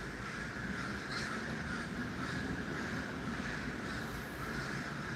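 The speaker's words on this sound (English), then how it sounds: "A whole murder of crows in that tree." A flock of crows caws repeatedly from a tree outdoors, the calls spread across a steady wash of wind noise, none of them very close.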